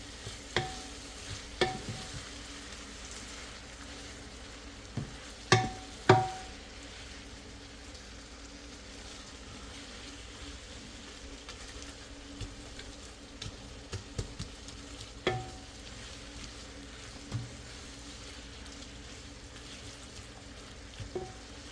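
Ring-cut onions frying gently over low heat in a pan for chicken biryani, with soft continuous sizzle and occasional sharp scrapes and knocks of a spoon stirring, no talking.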